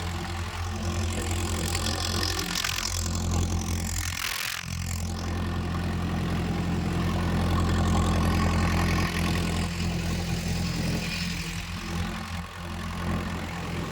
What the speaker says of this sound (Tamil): இதனோட சவுண்ட் இன்ஜின் சவுண்டு கேளுங்க